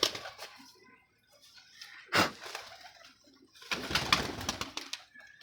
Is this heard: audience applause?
no